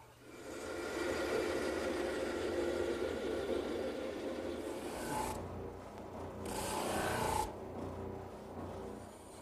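Bandsaw cutting wood for a croquet set build, a steady close rasping whir that runs continuously, swelling with two brighter bursts of cutting noise near the end.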